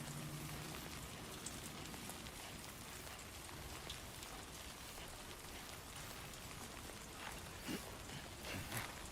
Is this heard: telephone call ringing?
no